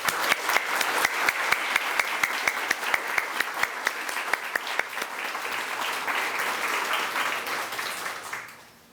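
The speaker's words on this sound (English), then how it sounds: "Please join me in applauding our donors who make the work we do as a foundation possible." Guests at a community foundation's outdoor founder's day picnic applaud the donors, with distinct rhythmic claps at first merging into a fuller round of applause that fades out near the end.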